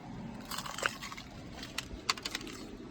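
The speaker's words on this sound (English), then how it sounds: "Let's see if we can get a nice crunch here." Crunchy fried chicken is bitten several times up close, each bite a sharp crisp crackle in a quiet room, followed by softer chewing crunches.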